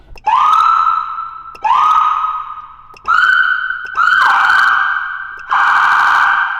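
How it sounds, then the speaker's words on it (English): Police siren on a replica Transformers Barricade car wails in loud, close bursts, five rising electronic sweeps switched on and off in quick succession. "Our siren, so this button on"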